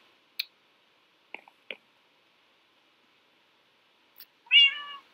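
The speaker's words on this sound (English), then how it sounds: "Oh my gosh, we have a kitty!" A Minecraft cat in a Civcraft server: a few sparse, soft clicks and taps in near silence, then a single clear, close meow at the end.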